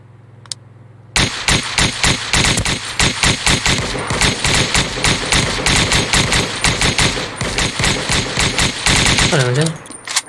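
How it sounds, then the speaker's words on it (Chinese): Gunfire in a video game: loud, rapid bursts of automatic shots that start abruptly and keep up in a dense, rattling stream for about nine seconds, with faint talk around them. "我刚听到其他枪声"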